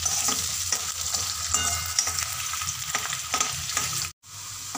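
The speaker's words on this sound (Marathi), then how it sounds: "त्यानंतर हे बटाटा टाकून आता हे बटाटा छान फ्राय करायचा आहे।" Potatoes fry in hot oil in a kadhai for batata poha, a steady close sizzle with stirring scrapes throughout, then a brief cut to silence near the end.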